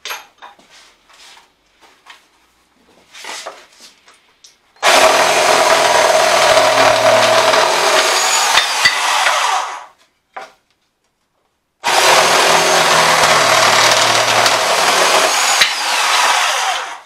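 Power tool cutting reclaimed wooden boards for a vintage wall clock, two loud sustained bursts of whining, rasping cutting, each about five seconds, separated by a short pause, after some light handling knocks.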